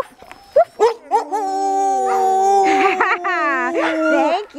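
A dog howls in a long, rising and falling woo-woo tone close by, broken up by a few short yips and whimpers, while a person speaks and imitates the howl alongside it.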